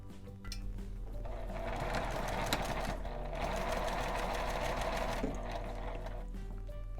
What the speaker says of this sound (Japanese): 上下を 5mm の縫い代で縫います。